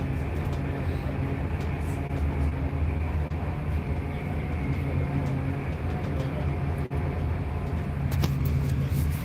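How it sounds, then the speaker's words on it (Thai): A train on the Bangkok–Korat line rumbles steadily along the rails from inside the carriage, a constant low drone with faint rattles throughout. "เที่ยวบนรถไฟ"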